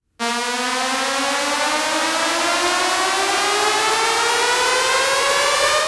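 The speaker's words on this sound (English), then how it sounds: "That's this little riser." Synthesized riser effect in a pop music production, a loud sustained tone sweeping steadily upward in pitch for about six seconds after a sudden start, with no voices.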